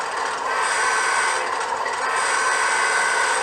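Three Bowser RS-3 model diesel locomotives play engine sounds through Scale Sound System speakers, a steady droning hum with a rough, buzzing midrange that runs continuously and fairly loud, with no talking.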